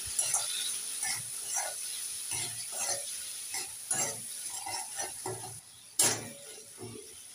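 Prawn posto curry spices with salt and chilli powder being stirred in a pan, a soft scraping, sizzling texture with repeated strokes and one sharper clatter near the end.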